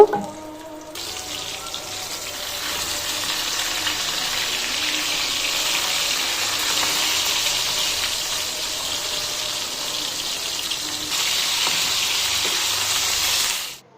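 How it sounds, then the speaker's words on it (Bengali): Pieces of katla fish fry in hot oil in a frying pan, a close, steady sizzle and crackle that holds throughout, dips once near the end and surges again before cutting off. "এবার ফ্রাই প্যানে তেল গরম করে মাছগুলো কড়া করে ভেজে নেব।"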